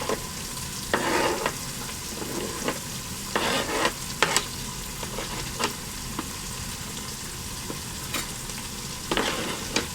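Onions and celery frying in a pan with a constant sizzle, broken by bursts of stirring and scraping, loud and close.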